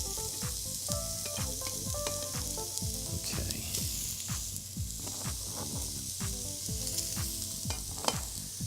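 Meat and onions sizzling in a hot pan, a dense crackling sizzle with repeated scraping stirs and clanks of the utensil, steady and close.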